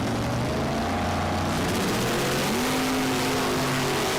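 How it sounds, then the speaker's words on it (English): A 468 cubic inch dragster racing down the drag strip at The Strip at Las Vegas Motor Speedway, a loud sustained engine roar with a shifting droning pitch. "Crandall from Phelan with that 468 cubic inch powered dragster over there in the left lane"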